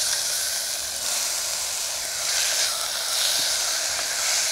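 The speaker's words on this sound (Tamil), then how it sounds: "எல்லாம் சேர்ந்து நல்லா இப்போ வதங்குது." Ginger garlic paste and tomatoes sauté together in a hot pan, a steady hissing sizzle close by that swells slightly in places, with no voices.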